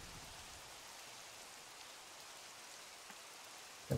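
Steady rain falls in Minecraft, a dense, even hiss of drops that runs throughout at low volume, with a brief thump near the end and no voices.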